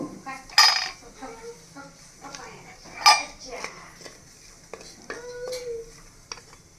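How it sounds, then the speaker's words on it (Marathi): Onion is roasted and stirred in a clay pot, with scattered clinks and scrapes of a utensil against the pot and a faint sizzle between the sharper knocks. "तर या ठिकाणी या भांड्यामध्ये आपण आता कांदा ठेवणार आहोत भाजायला"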